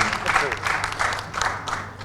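Crowd applause breaks out at a Punjabi film promotion event, a steady wash of clapping lasting about two seconds with a voice talking over it.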